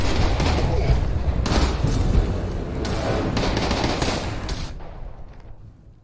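Sustained video game gunfire, a dense loud stream of shots and booms that rolls on steadily before fading out at the end.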